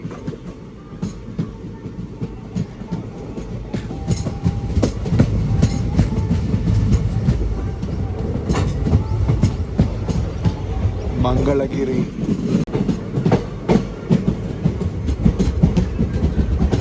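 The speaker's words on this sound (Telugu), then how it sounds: "షంటింగ్ సౌండ్ విన్నారా?" Passenger train with ICF coaches shunting at Mangalagiri station on the Vijayawada–Guntur–Macherla line, a steady loud rumble with rhythmic clanks and rattles of the carriages, with a brief squeal near the middle.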